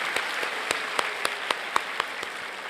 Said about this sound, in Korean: 네, 우리 격려의 박수 다 같이 부탁드리겠습니다.